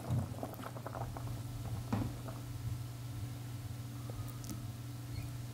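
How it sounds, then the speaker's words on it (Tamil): Chicken kurma curry gravy with chicken and potato boiling in a pot, a steady low bubbling simmer with scattered soft pops and crackles, close and fairly quiet, no voices. "இப்போ குழம்பு வந்து நல்லா கொதிச்சிட்ருக்குது"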